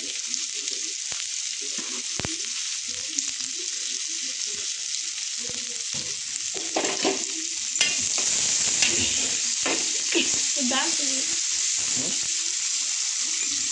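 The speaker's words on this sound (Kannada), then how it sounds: "ಸೊ ಇದು ಉಳ್ಳಾಗಡ್ಡಿ ಬ್ರೌನ್ ಕಲರ್ ಬರುವಾಗ ಹಾಗೆ ಫ್ರೈ ಮಾಡಿ" Onions fry in a pan for egg masala, a steady close sizzle with stirring scrapes and clatters that grow busier and louder partway through.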